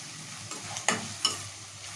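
Soya chunk fried rice with vegetables being stirred in a pan, soft sizzle under a few sharp scraping strokes of a spatula, close and fairly quiet.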